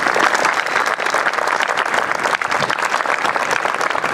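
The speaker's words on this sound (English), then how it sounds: "I'd like to give them a round of applause for what they did." Loud, sustained applause from an audience at a military promotion ceremony, saluting a high school show choir, with dense steady clapping and a faint crowd murmur.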